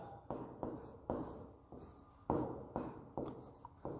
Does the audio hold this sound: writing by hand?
yes